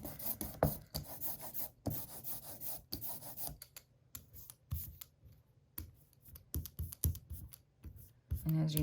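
An ink roller worked back and forth over a carved mushroom printing block, a soft close sticky rubbing and rolling in repeated strokes, with a few faint clicks.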